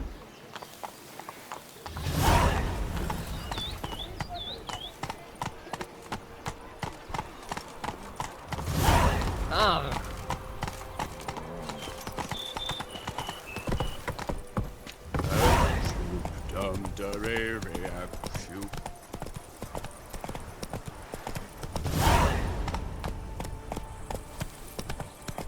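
Roach, Geralt's horse in The Witcher 3: Wild Hunt – Blood and Wine, clip-clops with steady hoofbeats, overlaid by periodic loud bursts and game sounds.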